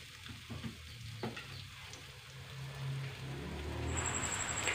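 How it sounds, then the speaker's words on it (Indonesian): Shallots and garlic frying in hot cooking oil give a steady, close sizzle with faint stirring, rising slightly in intensity toward the end, with no voices. "Tumis bawang merah dan bawang putih sampai harum."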